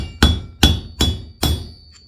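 Four sharp, close hammer blows tap a seal into the front wheel of a Yamaha XS1100 motorcycle, evenly spaced, loud and ringing, ending with a faint metallic ping.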